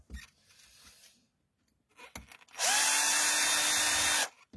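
Power drill working on a Losi Promoto MX pocket bike, a loud high-pitched whirring burst revving up and holding for under two seconds, following quieter handling noises, no talk.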